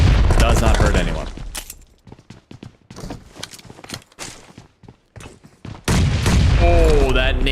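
A grenade goes off during a PUBG Mobile match, with a string of sharp gunfire-like cracks and bangs between stretches of commentator talk at the start and end.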